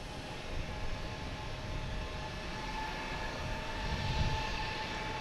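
A Delta airliner on approach to runway 4 left at Boston Logan, arriving from JFK, gives a steady, fairly distant jet engine roar that swells slightly toward the end, with no one talking.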